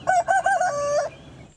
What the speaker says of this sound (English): I am rooster, cockaraco rooster.